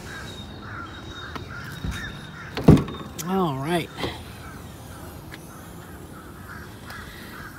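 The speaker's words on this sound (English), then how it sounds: "Crows." A few harsh crow caws sound nearby, a short cluster of calls, with a thump and a brief spoken remark around them.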